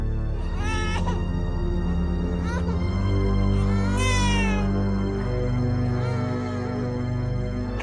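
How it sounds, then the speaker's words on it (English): A child crying and wailing in rising, drawn-out bursts over a continuous low droning background, moderately loud and eerie. "the sound of the crying came from behind her"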